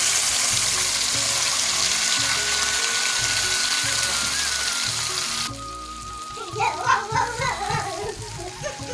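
Spice paste goes into a hot pan for prawn malai curry, a loud broad sizzle that cuts off sharply partway through and gives way to softer bubbling and scattered wet pops.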